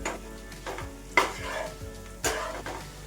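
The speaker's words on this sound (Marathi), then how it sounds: "आता हे सर्व साहित्य पुन्हा मिक्स करायचं आहे आपल्याला" Egg ghotala ingredients stirred and sautéed together in a hot pan for a street-style Indian dish: continuous sizzling with several sharp spatula scrapes and clanks against the metal, near and fairly loud, no talking.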